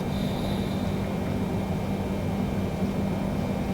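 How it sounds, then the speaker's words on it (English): An airplane engine at full throttle in Microsoft Flight Simulator produces a loud, constant droning hum with a low rumble and a faint high whine, held steady without pause and with no talking. "our engine is at full blast, and we are not even moving"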